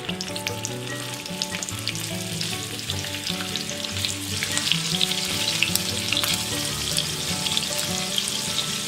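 Sausage sizzles and spits in a hot pan turned down low, a steady, close, continuous frying crackle that swells slightly over time, with an even tonal hum running underneath.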